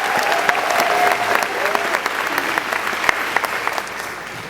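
A crowd at a high school graduation ceremony breaks into sustained applause, with bright dense clapping, a few sharp individual claps standing out, and faint voices mixed in.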